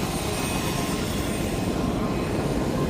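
Aircraft engine noise from a plane standing on the ground, a steady broadband roar and whine running continuously and fairly loud throughout, with no talk.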